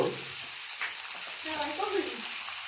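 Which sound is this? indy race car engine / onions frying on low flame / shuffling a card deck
onions frying on low flame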